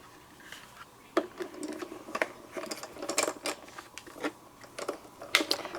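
A die-cutting machine such as a Cuttlebug or Big Shot cutting out a rubber stamp image: irregular close clicks, creaks and mechanical crunches as the plates are cranked through, moderately quiet and without talk.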